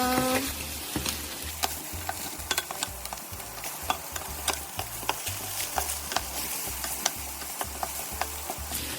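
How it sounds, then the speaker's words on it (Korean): Steady crackling sizzle of chicken wings stir-frying in a pan, with occasional sharp pops and a repeated scraping from stirring, close up. "지글지글 익고 있네요."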